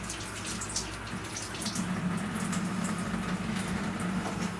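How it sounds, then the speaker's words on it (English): Tap water at a tiny house runs steadily into a sink while someone washes glue off their hands, a close, continuous splashing rush with no talking. "Let's open the water up. I'll wash my hands a little bit."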